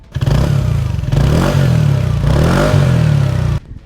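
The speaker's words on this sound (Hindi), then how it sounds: "अब 150 सीसी स्कूटर है, स्पोर्टी स्कूटर है, तो एग्जॉस्ट नोट सुनना बनता है।" A TVS Ntorq 150cc sporty scooter's exhaust note revs up and down in several strong, growling bursts, loud and close, then cuts off abruptly near the end.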